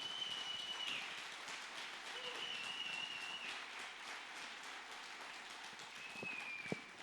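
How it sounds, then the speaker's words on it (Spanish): A church congregation at a family service applauds, a soft, even patter of many hands clapping throughout, heard from some distance at low volume. "Dale un aplauso al Señor"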